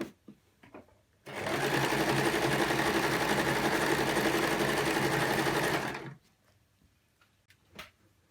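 A sewing machine stitches a wrap skirt in one steady, continuous run of about five seconds, close and loud, starting and stopping cleanly with quiet room tone on either side and no talking.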